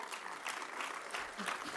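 An audience at the Fête de la Pomme 2022 applauds the mayor of Caen, soft distant clapping from many hands sustained throughout with some murmuring mixed in.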